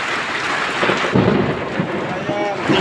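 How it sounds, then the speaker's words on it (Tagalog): Heavy rain pours down in a dense, loud, continuous roar with spattering drops on surfaces nearby, steady throughout and with no voices over it. "Lakas ng ulan dito"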